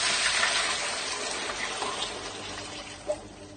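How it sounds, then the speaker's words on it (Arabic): Boiling hot water poured onto raw meat in a pot, a loud gushing, splashing rush that eases off gradually, with no talking. "هننزل بميه سخنه مغليه قبل ما نحط اي توابل ولا اي حاجه"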